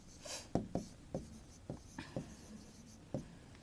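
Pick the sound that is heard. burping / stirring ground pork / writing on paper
writing on paper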